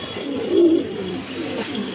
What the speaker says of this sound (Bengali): এই যে দেখেন অনেক বড় সাইজের কবুতর